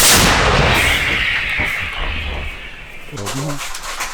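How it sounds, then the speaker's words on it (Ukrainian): A heavy artillery blast booms close by and rolls off into a long rumble, and a voice calls out near the end. "Гармата, постріл!"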